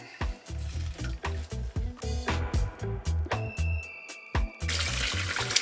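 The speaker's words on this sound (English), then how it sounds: "We are straining it for the second time, just in case any little sour leaves or ginger didn't make it" Homemade Jamaican sorrel drink with ginger being poured and strained, liquid splashing and trickling in repeated bursts, close and fairly loud, with a brief faucet-like stream near the end.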